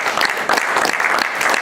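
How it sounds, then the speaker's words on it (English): Loud, dense applause from a crowd at a political candidate event in Greenville, continuous clapping throughout the short stretch. "let's give these folks a round of applause"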